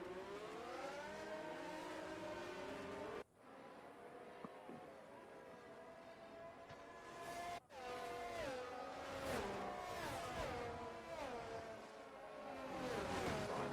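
Race cars on a formation lap at Bahrain in F1 22: layered engine whines sweep up and down across several cars, quiet and steady with brief cut-offs, no talk.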